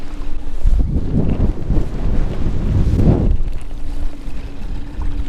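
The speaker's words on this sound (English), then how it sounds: "you get some wind blowing like this" Wind gusts over Lake Sakakawea while someone fishes from a boat, buffeting the microphone with loud, rumbling swells that rise and ease over a few seconds, with no talking.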